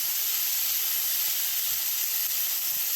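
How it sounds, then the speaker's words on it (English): Diced potato frying in vegetable oil with onion and garlic gives a steady, loud, even sizzle and hiss that holds unbroken throughout, with no voices. "Ready to fry the diced potato."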